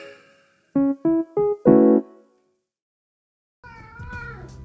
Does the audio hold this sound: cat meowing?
yes